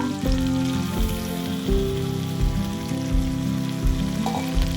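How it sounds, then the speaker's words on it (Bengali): Fried potatoes added to mutton curry set off steady, loud sizzling and crackling in hot oil, with occasional stirring knocks throughout. "এবার আমি ভাজা যে আলুটা রেখেছিলাম আলুটা দিয়ে দেব"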